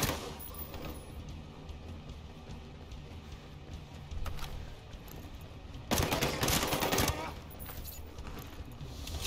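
Light machine gun fire in the video game Ghost Recon Breakpoint, with sustained bursts and a louder, dense stretch of rapid shots midway, mixed with game sounds and some voice.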